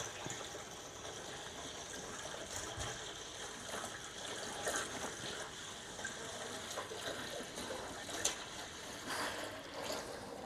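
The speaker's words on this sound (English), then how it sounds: "Can't be any different than pouring 5 litres of vinegar in there" Vinegar pouring steadily into a fuel tank in a continuous gushing stream, a constant hollow splash throughout, fairly close with no talking.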